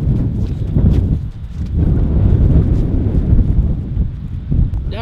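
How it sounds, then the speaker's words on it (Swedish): Strong wind blowing straight into the microphone outdoors, a loud continuous rumbling buffet that surges and dips throughout, with no clear voices over it. "Jäklar vad det blåser."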